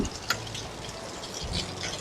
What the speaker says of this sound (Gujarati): અમારા ગામમાં વરસાદ આવ્યો